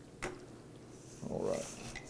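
A spoon stirs chopped, browned bacon into cowboy bean chili in a pot, faint clinks followed by a short scraping swirl, quiet and close.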